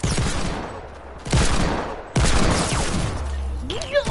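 Bursts of video-game gunfire, loud and sharp, come in two main clusters with a fainter tail, some shots overlapping as though from more than one weapon.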